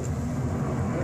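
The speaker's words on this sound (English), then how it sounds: "Sorry about the airplane." Airplane flying overhead outdoors, a steady low broad engine drone that fills the short stretch evenly, with no voices.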